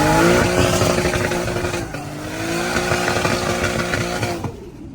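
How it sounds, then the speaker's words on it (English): A Nissan Skyline R34's turbocharged engine, set up for drifting, sounds loud and close with a sustained wastegate-laced roar. The note holds steady, dips briefly, then fades out at the end, with no talking over it. "the wastegate sound crazy on this side"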